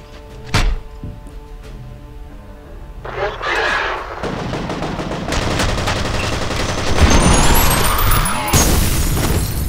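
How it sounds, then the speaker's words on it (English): Grenade blasts and gunfire in the video game F.E.A.R., a sharp early boom followed by building rumbling explosions and scattered shots, loud and close with game sounds layered throughout. "These grenades are good."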